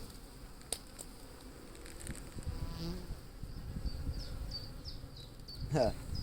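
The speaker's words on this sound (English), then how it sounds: "As they start buzzing around more in a more waspish fashion." Honeybees buzz around an opened Layens hive, with close drones passing by over a soft background hum and occasional light knocks and handling noises.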